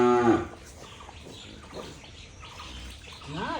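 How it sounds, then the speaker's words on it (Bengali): A newborn black Holstein Friesian bull calf on a farm gives a short, close bleat at the start and another call at the end, with soft farmyard noise and some splashing water in between. "কালো রঙের ষাঁড় বাছুর। মাশাআল্লাহ, একদম অরিজিনাল হলস্টেইন ফ্রিজিয়ান।"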